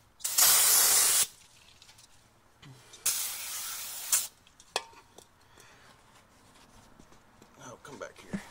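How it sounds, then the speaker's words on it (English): Brake cleaner sprays onto a jet ski hull in two loud, hissing bursts of about a second each, followed by quieter handling noises and faint voices. "Should we hit it with the brake clean real quick?"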